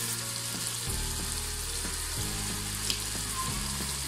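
Washed rice tipped into a pan of sizzling spice masala for restaurant-style bhuna khichuri gives a steady close frying hiss broken by soft stirring scrapes, with no talk.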